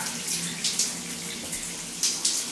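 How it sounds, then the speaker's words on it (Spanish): Water runs steadily from a newly fitted shower in a bathroom being renovated inside a shipping-container house, a continuous hiss with a few brief splashy surges and no voices. "También nos sale una agüita maravillosa."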